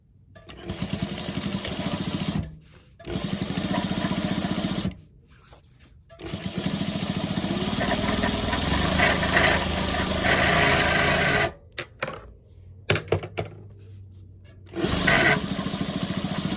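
Sewing machine stitching a fabric tote bag, running in several whirring bursts of a few seconds each separated by brief pauses, close and steady, with no talk.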